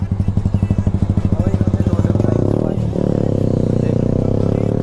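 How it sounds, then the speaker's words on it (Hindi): A Benelli 300 motorcycle fitted with an aftermarket race exhaust revs loudly up close, with a rapid pulsing engine note that steadies into a sustained drone. "भारी बाइक है भाई।"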